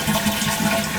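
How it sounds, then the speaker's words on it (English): A household toilet flushes with a loud, close rush of swirling water that stays steady through the whole brief moment. "we're going to flush it one more time"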